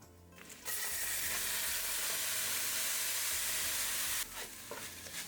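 Dried garlic and washed lentils sautéing in a pot give a loud, steady sizzle and hiss that starts abruptly, holds for several seconds, then drops back with a few stirring clatters.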